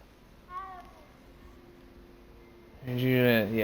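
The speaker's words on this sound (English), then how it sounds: "Cat!" A cat meows briefly in the background, a short faint call, followed by a louder nearby voice talking.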